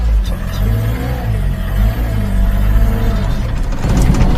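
A car engine runs steadily at idle, close and loud, with a low rumbling drone and slight rises in revs, mid-repair with a fuel pressure concern and a belt fitted.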